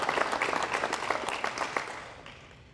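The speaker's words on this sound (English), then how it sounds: "I think we ought to give them a round of applause" A short burst of applause from a modest crowd at a bill signing in a high school, the clapping strong at first and then tapering off over a couple of seconds.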